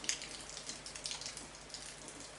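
Rain falls steadily outside as a soft, continuous patter with scattered drops, fairly faint and fairly close, with no voices.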